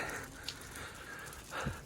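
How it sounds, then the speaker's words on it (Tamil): Rain falling outdoors in Tawang, a soft, steady hiss of drops close by, with a couple of slightly louder spatters and no talking. "மழை பெஞ்சிக்கே இருக்காப்பா, சொதண்டு."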